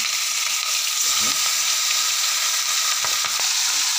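Local pabda fish frying in a pan, with a steady, close, dense sizzle of hot oil throughout and a few faint clinks of utensils.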